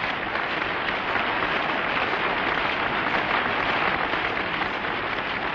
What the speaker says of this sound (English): the crowd gives him encouragement when he scores off the first ball